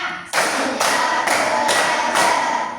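Hand claps in a classroom clapping drill, several loud, sharp broadband claps in a steady rhythm with roughly half-second gaps, close by and continuing without talk.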